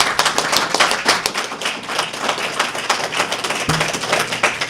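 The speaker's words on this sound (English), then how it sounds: "Please give them a round of applause." Audience at a town hall meeting applauds the panel members, a steady burst of dense clapping from a room full of people that carries on for several seconds without talk.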